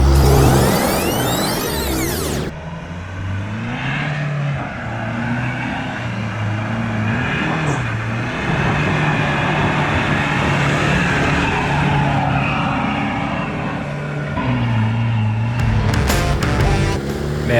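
A four-wheel-drive vehicle's engine revs hard and strains as it climbs a steep hill. The loud, continuous roar rises and falls in pitch, with tyres scrabbling and a sharper burst near the start.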